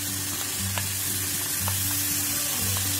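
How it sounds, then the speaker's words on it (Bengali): Cauliflower frying in a pan for a roast, giving a continuous dense sizzle with a few light stirring clicks, close and alone without voices. "মোটামুটি ভাজা হয়ে গেছে"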